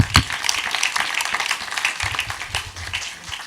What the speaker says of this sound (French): On peut vous applaudir éventuellement